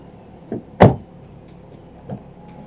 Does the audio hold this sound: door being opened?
yes